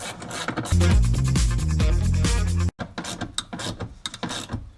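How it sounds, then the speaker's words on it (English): A ratchet tightens the bolt of an aftermarket seat belt into the factory mounting point inside a drift car, with loud rapid clicking for about two seconds, then a pause and a few scattered softer clicks and rubbing noises. "You'll bolt it in right where the factory belt was. And then tighten it up."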